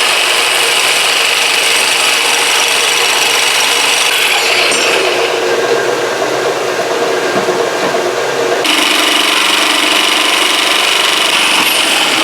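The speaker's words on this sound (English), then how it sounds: "So now I'm going to use the diamond blade once again, cut this off." A diamond blade cuts through O-1 tool steel for a homemade knife, a loud, continuous high-pitched grinding screech that briefly shifts tone midway and carries on steadily without talk.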